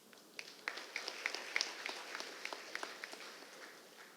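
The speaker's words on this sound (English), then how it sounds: "Let us give a rapturous applause to the eminent personalities for their dignified presence." Sparse, fairly quiet applause from the audience at the inauguration ceremony of a national-level chemistry fest, a scattering of separate claps over soft room ambience with no talk.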